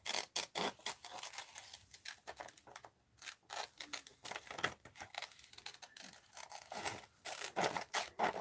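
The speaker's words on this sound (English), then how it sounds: "Let's cut this one out." Scissors snipping through paper while cutting out a piece for a mixed-media art journal, a busy run of close, crisp cuts and rustles with a short pause midway.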